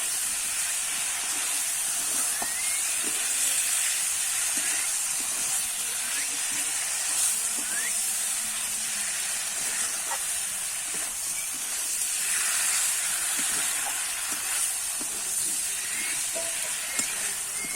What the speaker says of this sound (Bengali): এবার কিন্তু ভেজে রাখা চিংড়ি মাছটা দিয়ে দেবো আর একটু আমি এইভাবে কষিয়ে নেবো